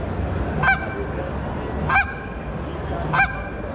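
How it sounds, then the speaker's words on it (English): Three short, sharp clucks from a goose call with an aluminum wedge ring out alone at even intervals, each a quick high-pitched yelp over a quiet background hiss. "Okay, I'm just going to do a simple cluck for you."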